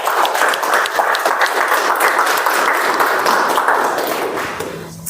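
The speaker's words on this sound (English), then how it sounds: "So, big round of applause." An audience at a meeting gives a full, steady round of applause, dense and fairly loud, thinning out toward the end with a faint ringing tone.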